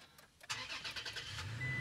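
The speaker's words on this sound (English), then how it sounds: "engine start, stop, you push your foot down on the brake as you can see" A 2022 Toyota Tacoma TRD Sport pickup's engine starts by push button: a quick cranking burst that settles into a steady idle, close by inside the cab.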